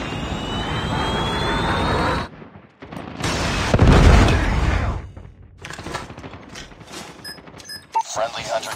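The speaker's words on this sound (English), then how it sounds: "Friendly predator missile inbound." Predator missile strike in Call of Duty Mobile team deathmatch: a roaring incoming rush builds, then a heavy low blast swells and rolls off, followed by scattered game sounds and gunfire, with a voice in the clip.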